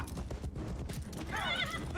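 Horse hooves clopping and a horse neighing in a Game of Thrones battle scene, rapid close hoofbeats followed by a sharp, loud whinny.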